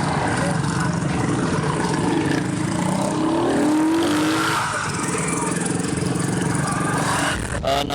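Motorcycles roar off along a deserted road for a race, their engines forming a loud, continuous drone with revving rises and passing swells, background chatter faintly underneath.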